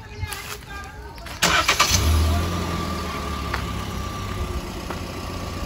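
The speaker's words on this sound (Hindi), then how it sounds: "एक बार इसको बाहर से स्टार्ट करके नॉइज वगैरह सुन लेते, क्योंकि किया की तारीफ होती है कि जो इसका पेट्रोल इंजन है काफी ज़्यादा साइलेंट है।" A Kia Seltos petrol engine cranks and catches after a second of quiet, then settles into a smooth, fairly soft idle heard from outside the car, with a person talking over it.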